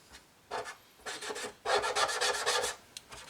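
A 1/32 and 1/48 scale F-14A model kit surface is scrubbed clean in close, quiet raspy strokes, several short rubs followed by a longer rhythmic burst.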